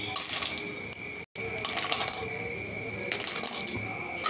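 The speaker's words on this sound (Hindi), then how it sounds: "अब इसमें डाल दूंगी काजू।" Cashews drop into hot butter in a kadai, giving close clinks and a light sizzle over a steady background hiss.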